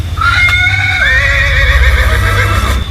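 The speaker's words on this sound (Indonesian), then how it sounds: "Itu adalah suara ringkikan kuda." A loud, close horse whinny rises and wavers for a few seconds over a low steady rumble.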